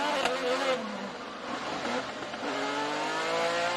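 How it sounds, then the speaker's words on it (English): An IndyCar race car, the NTT Data Arrow McLaren entry, drops through the corkscrew at Laguna Seca, its engine note falling and then climbing again as it downshifts and accelerates, heard onboard with a commentator talking over it. "in the NTT Data Arrow McLaren car coming through the corkscrew"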